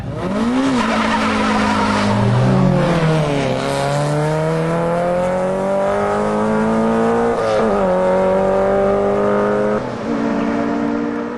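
Car engines, including a Hyundai Excel, roar as they pull away from a standstill, revving hard with rising pitch through the gears, loud and close, tires briefly squealing.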